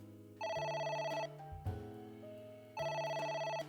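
A telephone rings in AI: The Somnium Files, with two loud electronic ring bursts separated by a short pause and a low thud in the gap, with no talking.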